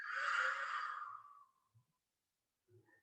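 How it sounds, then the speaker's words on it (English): A single strong, breathy forced exhale pushed out through the nose during Kapalabhati yoga breathing, loud at first and trailing off over about a second and a half, followed by quiet with faint soft rustles. "Exhale, push the air out."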